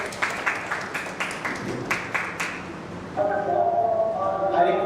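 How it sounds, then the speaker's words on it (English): Scattered claps from an audience welcoming guests at a multidisciplinary international conference in Kharghar, loose and uneven for about three seconds, then giving way to a sustained ringing tone. "Kindly give a round of applause to welcome our guests."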